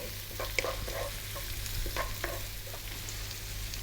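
Carrots, bok choy and other vegetables are stir-fried over high heat in a steady crackling sizzle, broken by repeated scraping and tossing strokes that keep the food moving, with no one talking.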